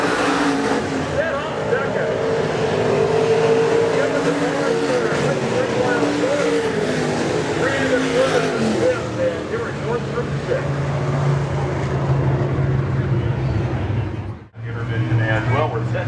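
Stock cars racing at Nobles County Speedway make a continuous layered engine roar with cars passing near and far, and a brief dropout near the end.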